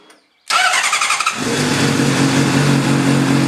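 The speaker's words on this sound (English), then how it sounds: "Start your bike and let it idle for 3 to 5 minutes." A Honda CBR 600 RR motorcycle engine fires up abruptly after a brief quiet moment, then settles into a loud, steady, close idle that runs to the end.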